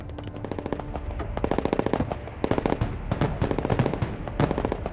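Rapid automatic gunfire in the military strategy game Broken Arrow, dense bursts of machine-gun rounds crackling back to back with scattered explosive pops, loud and continuous across the whole stretch.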